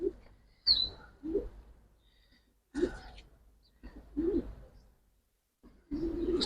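Pigeons from Old Dhaka coo in short, soft bursts spaced a second or so apart, fairly close in a quiet setting, with one sharper chirp near the start.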